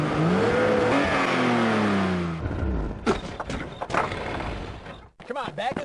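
A cartoon car in the You Don't Know Jack video game revs loudly and starts, then drives off with thumps and clunks as voices talk over it.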